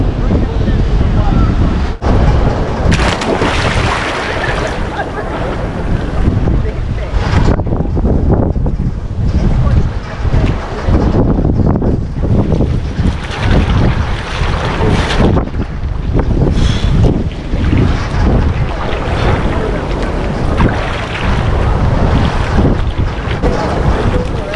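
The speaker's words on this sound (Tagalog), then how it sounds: "Lakas ng hangin." Strong wind roars across the microphone at a beach in Forster, New South Wales, Australia, a loud continuous buffeting rumble with surf underneath and occasional voices.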